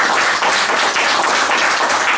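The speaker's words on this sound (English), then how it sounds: "Give them a clap." A room full of people applauding their instructors, a steady, loud, dense wash of clapping that continues without pause from start to finish.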